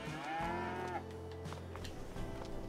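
Cows in a Farming Simulator 22 pen give a drawn-out moo early on, followed by lower lowing and murmuring cattle sounds, fairly close and quiet with no talking.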